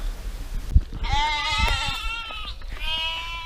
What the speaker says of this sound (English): We gotta go feed the lambs.